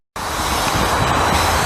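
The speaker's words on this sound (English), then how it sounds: "Here comes that switcher again." A CP Rail switcher locomotive rolls past at Lachine station, its broad rumbling, hissing rail noise starting abruptly and holding loud and close for over a second.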